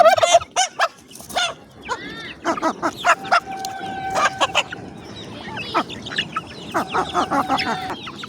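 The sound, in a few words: turkeys gobbling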